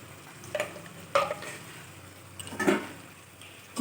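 Spices with salt and turmeric are stirred and fried in a pan, with a few scraping strokes of the spoon over a soft, faint sizzle.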